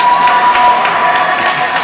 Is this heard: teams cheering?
yes